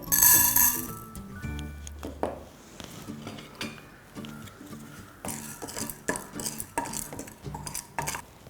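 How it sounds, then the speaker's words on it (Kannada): Chana dal is dry roasted without oil in a hot pan, the lentils pattering and scraping as a spoon stirs them, with clinking metal against the pan. "ಇದನ್ನು ಎಣ್ಣೆ ಹಾಕದೆ ನಾವು ಹುರಿಬೇಕು ಈಗ ಪ್ಯಾನ್ ಬಿಸಿಯಾಗಿದೆ ಕಡಲೆಬೇಳೆ ಹಾಕ್ಕೊಳ್ತಾ ಇದ್ದೀನಿ"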